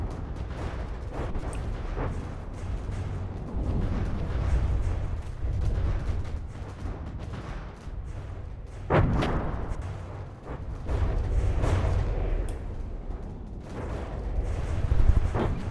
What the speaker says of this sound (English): I think these are just torpedoes that hit